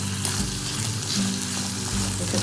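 Whole cumin seeds, bay leaf and chillies sauté in hot oil for rajma masala, giving a loud, continuous close sizzle with occasional stirring scrapes.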